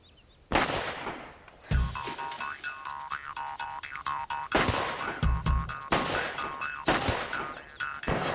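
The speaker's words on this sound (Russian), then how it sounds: "Салют, наверное." Several loud bangs burst one after another, each followed by crackling and ringing, fireworks echoing nearby at an uneven pace.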